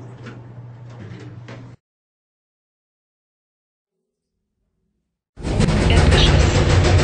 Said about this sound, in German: Tür schließt.